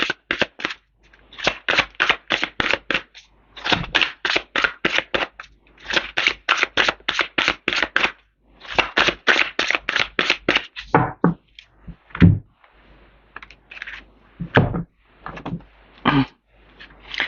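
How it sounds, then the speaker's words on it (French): Tarot oracle cards riffle-shuffled in rapid bursts of crisp flicking clicks, followed by a few slower taps and snaps as the deck is cut, close and clear with no talking. "Je vais faire une coupe et juste prendre 3 cartes."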